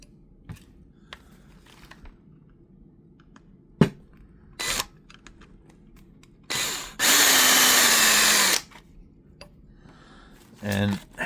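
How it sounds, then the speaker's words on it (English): A power drill whirs loudly in a couple of short bursts while taking apart a UTB18 light, the longest lasting about two seconds, between scattered clicks and handling noises. "drill, it's noisy on the video, sorry for that"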